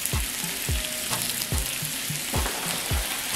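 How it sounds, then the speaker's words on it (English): Wild Alaskan salmon fillets from Costco sizzle steadily on a hot outdoor grill, a loud continuous frying hiss with periodic low thumps and clanks, no voices. "You can hear the sizzling, the grill"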